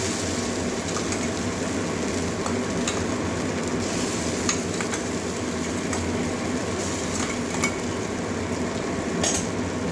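Pointed gourd seed paste frying in a pan with onion and garlic, giving a steady, dense sizzle with faint scrapes of stirring throughout, close and continuous with no talking.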